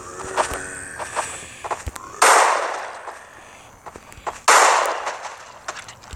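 Gunfire hits a zombie in a video game: two sharp, loud shots a couple of seconds apart, each followed by a ringing tail, between quieter clicks and footstep-like taps.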